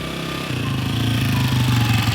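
A motorcycle engine idles and then revs up on a foggy morning in Dhaka, its low throbbing growl growing louder and steadier over a couple of seconds.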